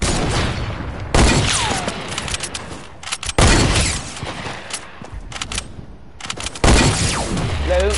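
Sharp gunshots in a sniper video game ring out in three loud separate bursts, each with a trailing echo, about two seconds apart with quieter game noise between.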